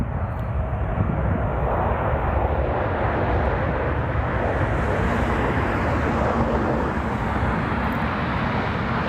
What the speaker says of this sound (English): Have a fast takeoff on this 777.